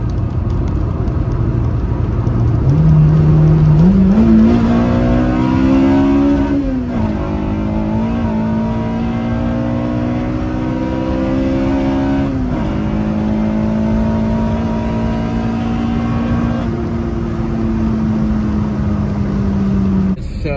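A Honda Civic Type R engine revs hard and climbs steadily through the gears, a loud sustained drone rising in pitch with brief dips at each shift.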